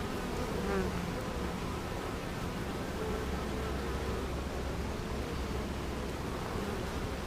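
Honeybees in an open beehive on a farm make a dense, continuous buzz that stays steady and close throughout, with no voices.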